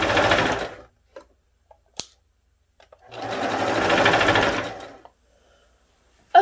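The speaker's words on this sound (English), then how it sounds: "you want to make sure it's open while you're sewing over it" Sewing machine stitching fabric for a NICU gown, two loud sustained bursts of running stitches separated by a pause with a few light clicks, close and clear with no talking.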